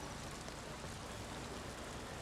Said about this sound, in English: we're just gonna wait for the rain to quit